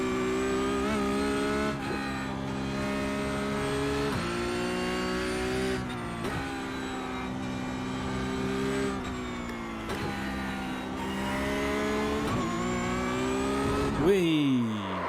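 Porsche Cup race car in iRacing lapping the Charlotte Roval, its engine droning loud and steady with rising and falling revs through gear shifts, ending in a sharp rev swing near the end.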